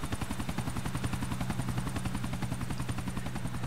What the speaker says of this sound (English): Helicopter's leaving.